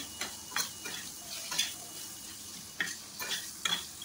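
Mushrooms frying in a pan with turmeric, asafoetida and a spice paste, a soft, even sizzle near the mic punctuated by light, irregular stirring clicks and scrapes.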